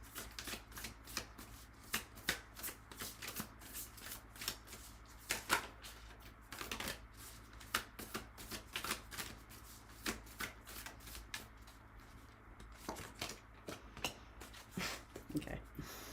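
Tarot cards shuffled and laid down one after another in a steady run of soft riffles, slaps and taps, close and fairly quiet, with no talking.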